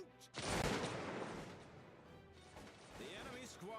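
A massed musket volley erupts in a Napoleonic-era Cossacks II battle, a dense crackling burst of gunfire that decays into a long rumbling roll, with a voice talking over the tail end.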